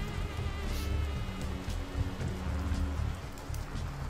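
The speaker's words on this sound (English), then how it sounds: "The rain sounds good" Rain falls steadily on outdoor surfaces, a dense continuous patter with scattered sharper drops and a low background hum, heard alone without speech.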